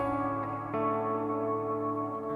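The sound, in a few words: audio with reverb effect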